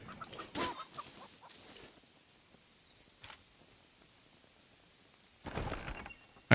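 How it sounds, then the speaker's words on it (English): Chickens cluck in the video game Len's Island, short soft clucking bursts at the start and end over a faint ambient background. "Look how there's always just chickens hanging around here."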